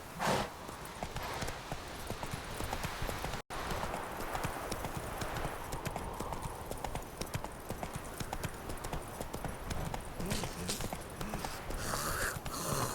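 Roach, a horse in the video game The Witcher 3, trots along with steady, close clip-clopping hooves that continue through the whole stretch, and a soft snort comes near the end.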